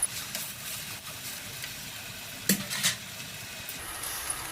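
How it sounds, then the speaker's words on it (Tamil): Onion vadagam sizzling in hot oil as tempering for thoyya keerai masiyal: a steady crackling hiss with a few brief clinks of stirring, continuous throughout. "நல்லா கடைஞ்சி வெங்காய வடகம் போட்டு தாளிக்கணும்"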